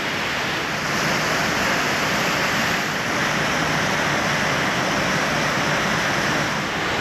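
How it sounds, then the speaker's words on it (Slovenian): Upper Martuljek waterfall in the Julian Alps roaring with a constant, dense, loud rush of falling water that stays steady and unbroken from start to end. "No, poglejte ga. Zgornji Martuljški slap."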